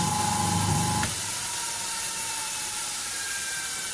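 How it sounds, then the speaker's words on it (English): Vintage McColl repulsion start electric motor winding down, a loud whirring hum with a steady whining tone that cuts off abruptly after a second into a fainter hissing, rattling run-down that slowly fades. "Listen to that bloody thing wind down."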